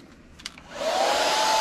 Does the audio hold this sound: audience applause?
no